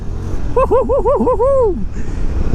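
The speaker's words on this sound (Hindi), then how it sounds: "अब थोड़ा सा यहाँ पे पेलते हैं बाइक को।" A motorcycle pulls away on a mountain road at Chala Dhar in Jammu and Kashmir, its engine close and loud, revving in quick wavering rises and falls over a steady rumble before settling.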